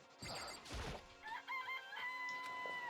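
A chicken in the Danganronpa video game clucks and then crows, a short burst of squawks followed by a drawn-out rooster call, with a couple of sharp knocks at the start.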